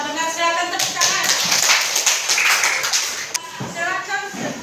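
A classroom of students claps for a correct answer in a lesson, a short burst of fairly close, uneven clapping that tapers off, with speaking voices heard around it.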